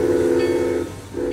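The Rolog ride-on train sounds a long, steady, low tonal blast, breaks off, then starts a second blast, loud and close.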